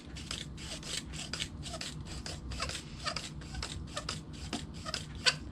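Seasoning grated by hand for a ribeye steak, heard as quiet, close, repeated rasping strokes in an irregular rhythm throughout, with no talking.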